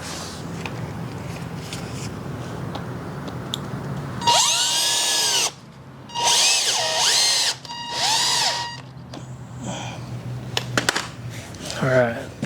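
Power drill driving screws into a hay rack, three loud whirring bursts of a couple of seconds each, the drill spinning up and down within each run, set over a low background hum, with brief clicks and a short whir after.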